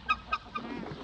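Geese honk three times in quick, close succession, each a short nasal blast, followed by a softer rustle of breathing and movement, with no talk.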